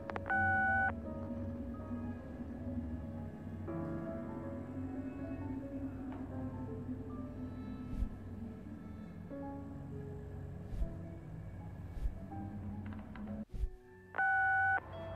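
An unanswered phone call in the video game Answer Knot: a repeating electronic ringback tone with steady beeps, heard faintly at the start and again near the end over a quiet, hummy game background.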